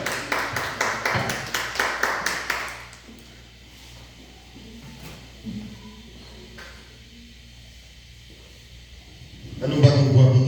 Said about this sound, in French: Nous battons pour applaudissement au Seigneur.